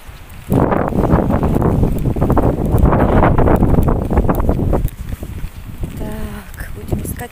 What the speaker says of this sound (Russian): Какой ветер, друзья мои!